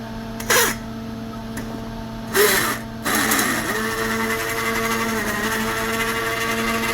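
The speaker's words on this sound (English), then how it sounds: "We're just blending a little bit just to get some of those potatoes to make it thick." A stick blender blending potato soup whirs in short bursts, then runs steadily with a low motor hum and churning, slightly wet grinding, close by and moderately loud.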